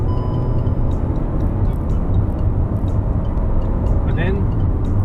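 Inside a 2020 Hyundai i20 under hard acceleration, with a loud, steady broadband engine and road roar that fills the cabin throughout.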